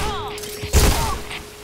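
A bomb explosion in the Point Blank shooter game, a single heavy, close blast with a low thump and bright spray, sitting over a steady hum and faint game tones.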